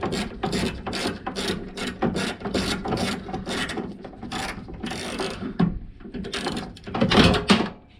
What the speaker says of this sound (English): Okay, and then we put back the 3 10mm nuts.